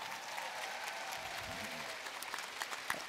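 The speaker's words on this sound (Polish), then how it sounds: "Dajmy im wielkie brawa!" An audience applauds at a DUOLIFE S.A. company event. The clapping is dense and sustained, forms a steady wash of crowd noise, and continues throughout at moderate distance.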